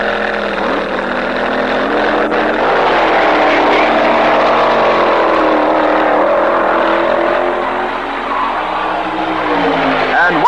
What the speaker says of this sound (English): Gene Snow in his rambunctious Dart. Jim Wofield running in the far lane in a Ford-powered dragster.